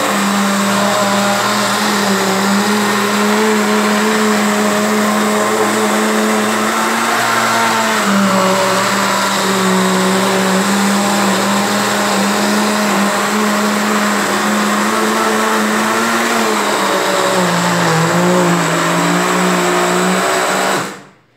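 A loud electric mixer whirs continuously with a steady motor hum, its pitch dipping slightly at moments as it churns a thick mixture of homemade coconut soap, no voices.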